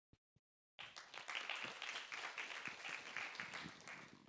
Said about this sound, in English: Please, a big applause for Dr.